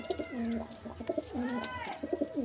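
Pure desi Giribaz pigeons cooing in quick, repeated rolling calls, faint and close together, over a quiet background with no voices.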